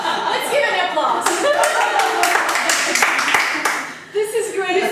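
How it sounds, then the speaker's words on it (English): Clapping from a small group, lively and irregular with sharp individual claps, briefly dipping near the end before picking up again, with voices mixed in. "Let's give an applause."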